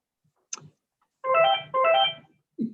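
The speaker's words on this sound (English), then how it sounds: "Phone ringing behind me." A telephone rings nearby in two electronic trilling bursts, each about half a second long, with faint clicks and shuffling around them and a short low thump at the end. No one speaks.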